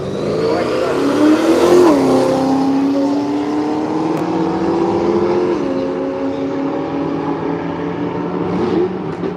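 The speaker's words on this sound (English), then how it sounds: "here we go with the first run of the day here at Willowbank Raceway" A Toyota Corolla makes a drag racing run at Willowbank Raceway, its engine loud and close, climbing in pitch through each gear with short dips at the shifts.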